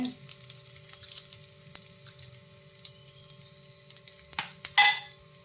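Cumin seeds hit hot oil in a pan, giving a soft steady sizzle that swells into a brief sharper crackle near the end, close by and with no talking.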